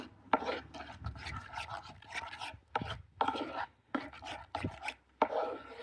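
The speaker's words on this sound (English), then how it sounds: "Give all this a good mix up." Chicken doner ingredients are tossed and mixed in a bowl, giving bursts of close, soft scraping and wet rubbing strokes at an uneven rhythm with short pauses between them.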